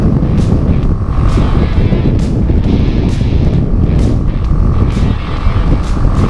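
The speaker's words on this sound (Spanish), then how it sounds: "Está fuerte el aire, me avienta hacia la derecha" Strong wind buffets the microphone in a steady roar, with an engine hum underneath, while riding at speed on a BMW G310 GS motorcycle.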